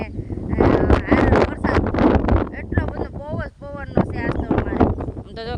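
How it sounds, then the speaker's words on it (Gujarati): Strong gusting wind on a rooftop buffets the microphone in loud roaring bursts while a person talks over it outdoors. "આ ધાબા ઉપર ઊભા ને ઊભા રહેવાય નહીં એટલો પવન છે"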